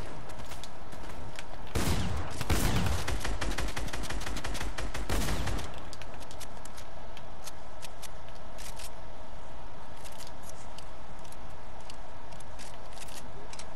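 Gunfire from the Fortnite video game rings out in two clustered bursts of rapid shots, the first around two seconds in and the second a few seconds later, loud and close against quiet game ambience.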